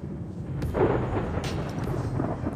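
Thunder following a lightning flash, a loud close rumbling crack that swells and rolls for a couple of seconds.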